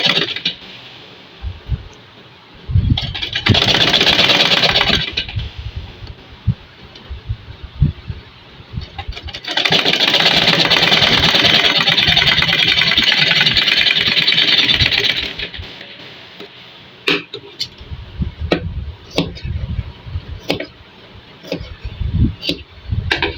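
A sewing machine stitches a pants hem in two loud bursts of rapid whirring, one short and one longer of about six seconds, separated and followed by quieter handling clicks and fabric rustle.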